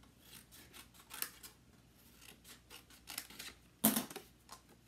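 Scissors snip through designer paper in a run of quick, crisp cuts at close range, with one louder sharp snip near the end; no talking.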